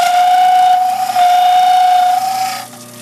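An electric trimmer cuts wet dental bleach trays with a loud, steady high-pitched whine that holds for over two seconds and then drops away.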